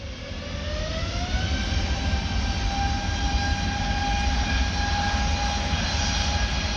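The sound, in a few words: Airbus A320 jet engines roaring at full power for takeoff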